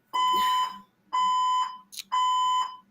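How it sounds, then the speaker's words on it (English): A fire alarm sounds three loud, even electronic beeps about one per second, each holding for around half a second, with a brief voice between the last two. "a fire alarm going off, and there's nothing I can do about it"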